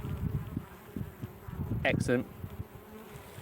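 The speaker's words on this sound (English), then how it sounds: "Young bees by the looks of things as well coming out the front." Bees, including young ones, buzz steadily at the front entrance of a hive, a close, continuous insect hum with a brief spoken word over it partway through.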